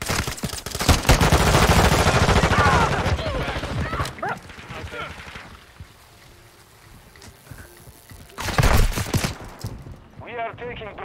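Rapid M4 rifle fire from a Call of Duty Modern Warfare 2 match rattles in dense bursts, loud at first, then fading into game ambience before another burst, with game voice lines audible.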